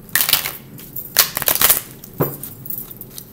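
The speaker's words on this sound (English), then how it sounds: "I'm going to cut the deck real quick." Tarot cards are shuffled by hand in quick bursts of papery riffling and slapping, close and crisp, separated by short pauses.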